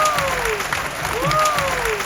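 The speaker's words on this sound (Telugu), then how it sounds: "ఎంటైర్ షో మొత్తం ఇలా క్లాప్స్ కొడుతూనే ఉన్నారనమాట." An audience at a magic show aboard the Cordelia cruise ship claps steadily, with the applause mixed under a voice that rises and falls.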